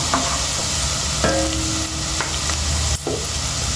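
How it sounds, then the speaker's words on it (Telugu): Onions fry in a pan for a stuffed eggplant curry, with a loud, steady close-up sizzle and occasional stirring clicks and scrapes. "ఉల్లిపాయలు మంచిగా ఫ్రై చేసుకోవాలండి"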